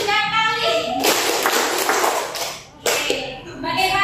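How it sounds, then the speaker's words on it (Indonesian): A class claps hands in short bursts, two loud rounds of clapping split by a brief pause, with a voice speaking before the clapping. "Tepuk tangan 3 kali."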